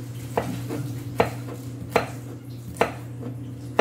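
A knife chops vegetables into strips on a cutting board while making Filipino kinilaw na bangus, five crisp evenly spaced thumps close by over a steady low hum, no talk.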